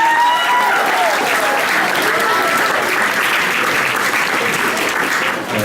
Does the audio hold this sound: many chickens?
no